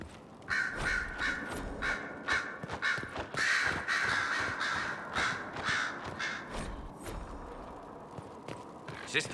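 Crows in Dragon Age: Inquisition caw again and again in a rough, irregular series that rises and falls in loudness over the whole stretch, against a busy outdoor background.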